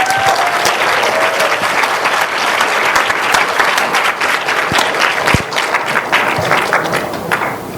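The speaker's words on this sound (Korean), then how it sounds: "박수로 맞이해 주시면 감사하겠습니다" Audience applause fills a university lecture hall at Handong University, welcoming a visiting economics lecturer; dense, steady clapping from many hands runs loud and unbroken throughout.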